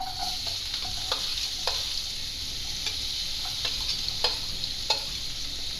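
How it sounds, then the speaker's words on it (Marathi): Finely chopped onion sautés in oil with ginger-garlic paste, a steady low sizzle punctuated by regular stirring clicks of a spatula against the pan. "कांदा मात्र छान तेलात परतवायचा आहे"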